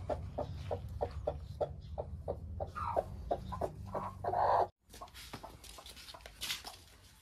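A hen clucks in short, evenly spaced bursts, close and fairly loud over a steady low hum. The sound cuts off abruptly near the end, then fainter noise follows.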